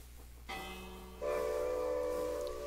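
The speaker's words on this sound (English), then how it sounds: "Now here's the train going." A train in the Minecraft Create mod sounds its whistle as it departs a station, first one tone, then a louder, sustained steam-whistle blast over a low mechanical hum.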